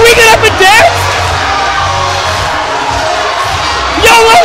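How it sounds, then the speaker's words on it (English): A wrestling arena crowd at Super Showdown II cheers and roars through a wrestler's entrance, loud bursts at the start and end over a steady hubbub of voices. "Look at this crowd."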